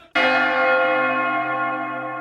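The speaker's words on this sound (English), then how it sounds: "Ring the bell." A single bell is struck once, near and loud, then rings on with a long, steady, slowly fading tone.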